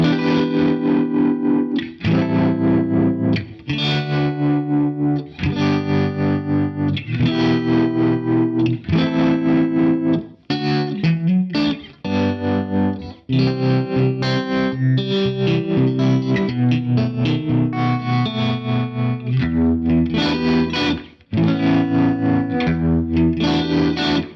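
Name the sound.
electric guitar with tremolo effect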